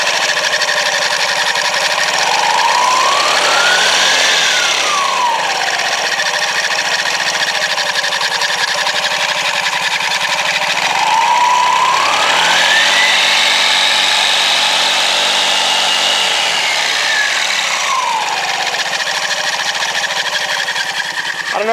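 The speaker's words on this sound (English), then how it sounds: "Quickly show you what happens when I give it the gas." Honda Ruckus scooter engine with its variator exposed, idling steadily and loudly nearby, then revved twice under throttle, pitch rising and falling smoothly each time with a whirring drive over the engine drone.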